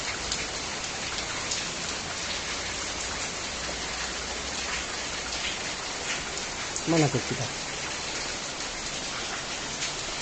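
Steady rain pours down outdoors in Nganjuk, a dense, even hiss of drops on surfaces that lasts throughout, with a brief voice speaking near the middle.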